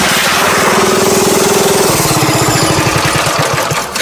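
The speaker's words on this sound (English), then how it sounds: "He's sitting there just gunning it, spinning the fucking tires, burning the engine out of it." Small go-kart engine revving hard and steadily with a rapid buzzing pulse, then dropping to a choppier, lower idle-like chug as tires spin; loud and close throughout.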